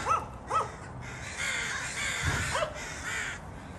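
Crows cawing outdoors near a Dodge Grand Caravan repair spot, several harsh caws in a quick sequence, moderately close, over steady wind and background noise.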